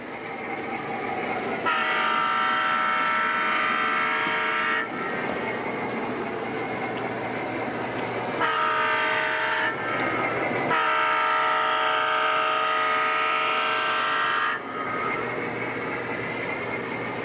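O gauge model trains run on a mountain layout, with a Southern Pacific freight and a Union Pacific passenger train. Loud sustained horn blasts sound in repeated long chords over a steady rolling rumble and track noise.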